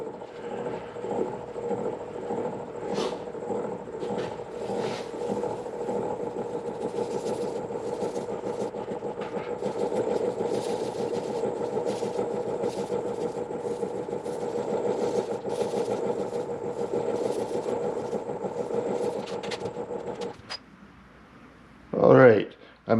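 A wood lathe spins slowly at 100 RPM, turning a poplar and resin platter, with a steady low motorised hum under a talking voice before it cuts out and a brief handling noise follows.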